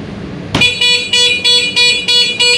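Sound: WITI anti-theft car alarm sounding the horn

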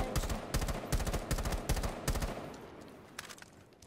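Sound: gunfire sprays in a video game

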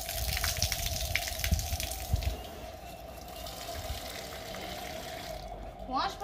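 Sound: water rinsing and draining soaked ingredients

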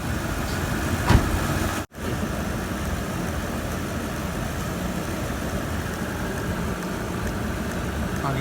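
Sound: car engine running during transmission fluid flush

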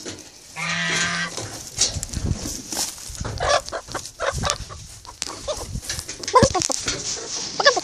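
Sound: chickens clucking in a henhouse

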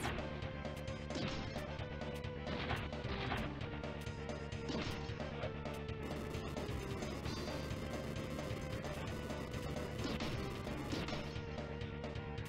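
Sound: punching the brain mainframe boss, Mighty Morphin Power Rangers video game

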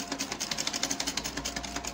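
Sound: sewing machine stitching fabric for smocking

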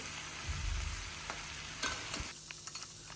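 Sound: stirring olive pickle in a pan

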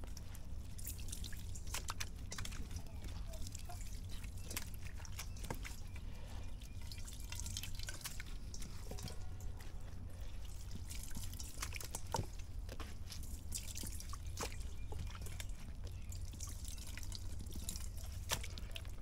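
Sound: copper fungicide dripping into a bowl from banana sucker

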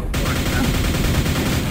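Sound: rocket launcher and lightning gun fire in Quake video game

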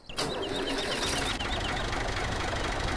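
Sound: classic tractor engine startup in a video game mod

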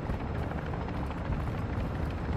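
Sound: helicopter arriving for extraction in a video game

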